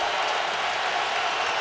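A packed NFL stadium crowd roars as one during a night game between the Chicago Bears and Indianapolis Colts, a loud, dense, unbroken wall of cheering noise.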